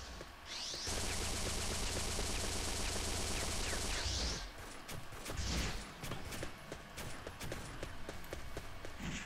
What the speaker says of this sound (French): Là je me suis pris une arme, c'est le homing rifle.